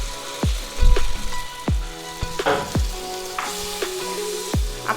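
Spice paste for a prawn malai curry fries in a pan with a continuous sizzle and repeated sharp spoon knocks and scrapes as it is stirred, close and fairly loud, without talk.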